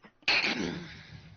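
A single sharp sneeze bursts out close by after a moment of quiet, its breathy tail fading over the following second with no talk.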